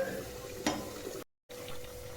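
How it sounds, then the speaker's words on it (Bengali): Prawn pakoras fry in hot oil with a steady, close sizzle and a brief stir, the crackling cut by a short gap before resuming. "তারপরে ভাজা দেবো, একে একে এরকম পরপর উল্টে দেবো।"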